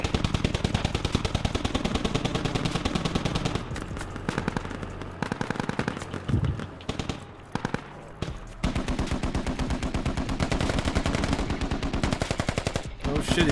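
Sustained automatic gunfire in the military shooter Squad, rapid dense bursts firing nearly nonstop, close and loud, with a brief thinning midway before the heavy shooting resumes.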